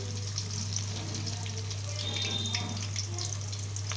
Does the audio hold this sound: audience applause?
no